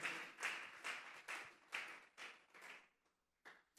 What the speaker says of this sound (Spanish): Vamos a darle una ofrenda de palmas a Dios en esta tarde.